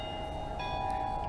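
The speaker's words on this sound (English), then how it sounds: "there's the church bells again" Church bells ring in Akureyri, Iceland, a sustained bright tolling with lingering overtones heard from a moderate distance outdoors, one fresh strike swelling midway through the brief moment.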